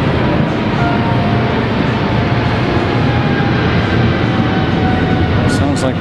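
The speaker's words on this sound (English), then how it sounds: "plane flying overhead." Airplane passing overhead at an outdoor bonsai show, a steady broadband roar heard continuously and fairly loud over background ambience.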